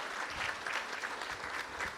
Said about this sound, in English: Let's give them a round of applause for this well-deserved honor.